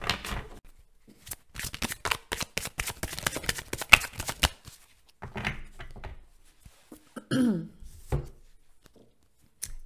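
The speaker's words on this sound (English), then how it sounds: "I want to reshuffle" Tarot cards being reshuffled by hand during a reading: a long burst of rapid, dense riffling clicks and snaps, followed by a few shorter bursts and soft thunks of the deck, close and fairly loud with no talking.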